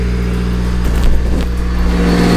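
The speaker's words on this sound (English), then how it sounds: "That exhaust leak though." A car engine with an exhaust leak revs up with a raspy, crackling exhaust note, a couple of quick throttle blips over a loud, steady idle hum.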